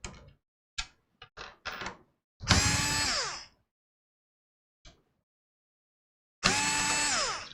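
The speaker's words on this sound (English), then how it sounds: "So we're just going to take these 4 screws out." An electric screwdriver takes screws out of a case fan in a Cougar FV270 PC case, with two loud, close, whirring bursts of about a second each, a few sharp clicks and handling taps before, and near silence between.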